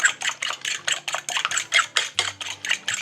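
Two eggs whisked in a bowl, a fast, steady run of close, bright clicking strokes from the whisk or fork against the bowl, about four strokes a second, with no talking.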